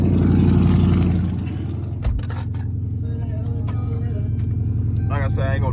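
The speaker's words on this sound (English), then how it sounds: "get y'all a cold start to start it off" A Chrysler 300C with a Hemi V8 idles with a loud, steady low rumble, a brief thump partway through, and clicks and jangles near the end, with speech heard over it.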